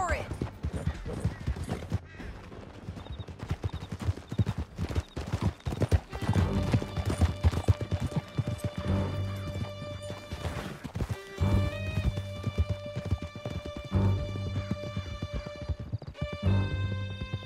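Horses gallop in a Red Dead Redemption 2 canyon chase, with rapid, dense hoofbeats and occasional whinnies. Gunfire, music and shouted dialogue from the riders are mixed in throughout.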